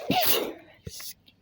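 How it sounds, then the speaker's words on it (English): A single loud close sneeze bursts out near the start, followed by a brief trailing sound, during a walk through a town. "I might end up sneezing."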